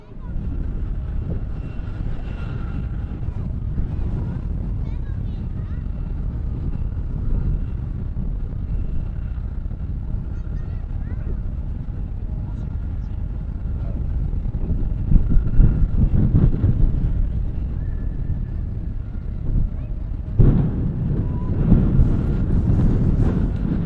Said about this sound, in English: Might be a bit blustery, as I say